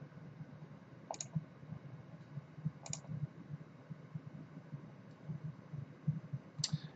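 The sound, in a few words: computer mouse clicking in inLab software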